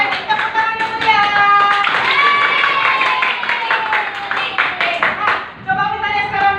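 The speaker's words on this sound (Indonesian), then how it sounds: "Coba, tepuk tangan yang meriah." Group of people clapping together in a classroom-style gathering, steady bright hand claps with voices and cheering mixed over the clapping throughout, brief dip near the end then clapping resumes.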